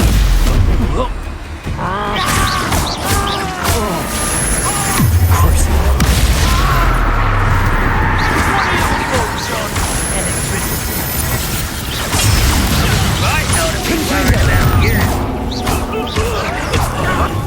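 Repeated Confringo spell blasts in Hogwarts Legacy boom and crash throughout a chaotic duel, loud and continuous alongside combat effects, music and a voice shouting spell names.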